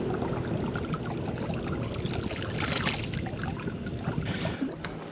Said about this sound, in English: bilge pump is a success